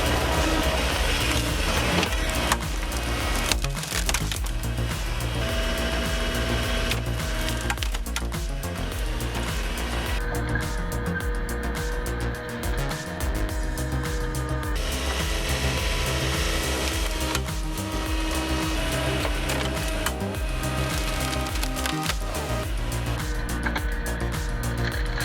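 A wood chipper shreds wood in a continuous, loud, dense grinding roar with rattling and cracking bursts, steady throughout with no pauses.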